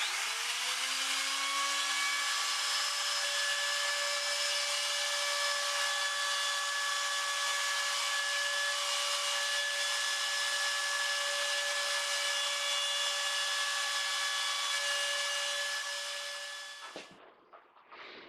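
A power tool whines steadily while roughing out inlay cavities in a mandolin, a high harmonic-rich tone that rises briefly at the start, runs evenly for about seventeen seconds, then winds down and stops near the end.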